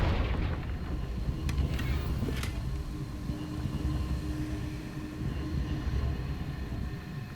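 A Confringo blasting spell going off in Hogwarts Legacy, a deep rumbling boom with rolling low-end roar and a few sharp crackling bursts early on, sustained and fairly close, no voices.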